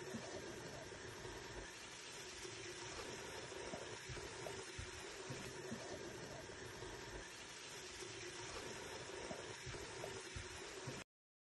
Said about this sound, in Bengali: দেখুন টকবক করে ফুটতে আরম্ভ হয়ে গেছে